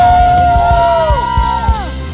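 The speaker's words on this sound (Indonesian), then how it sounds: "sorakan haleluya" A church congregation at a Sunday worship service shouts and cheers hallelujah together, a loud crowd roar with overlapping whoops and yells over background music, sustained for about two seconds.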